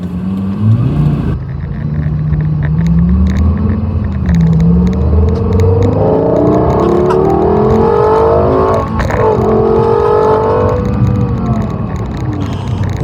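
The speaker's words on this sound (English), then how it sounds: "That car sounds incredible once it's under load." A carbon-fiber-trimmed performance car's engine revs hard under load, a loud, close growl climbing in pitch through several rising sweeps with a sharp shift blip midway, then settling into a sustained roar.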